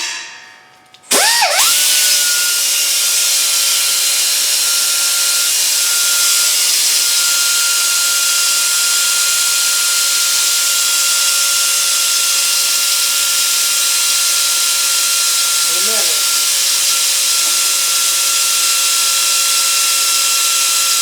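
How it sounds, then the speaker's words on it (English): An angle grinder kicks on in a garage and spins up to a steady, loud high-pitched whine that runs on continuously, alone, with a brief wobble partway through. "Go ahead and run this angle grinder"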